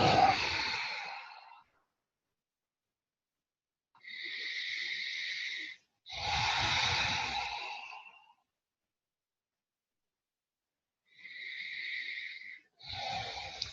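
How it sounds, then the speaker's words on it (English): Several slow, deep breaths drawn and released during a guided meditation, each a long, airy whoosh lasting a couple of seconds, close and clear, separated by stretches of silence. "Then take a series of larger than normal breaths."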